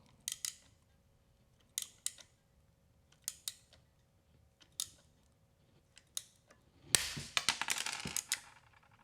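PEX pipe being cut with a cutter for tight spaces: a series of sharp, isolated snips spaced about a second apart, close and clear, ending in a denser burst of clicks and crunches.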